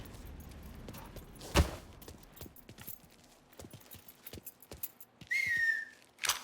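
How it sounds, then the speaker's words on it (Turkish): A character whistles in the video game Mafia III: a brief high whistle near the end, over scattered footstep-like game sounds, a sharp thump and faint background noise. "Islık çalma oğlum, ıslık çalma lan."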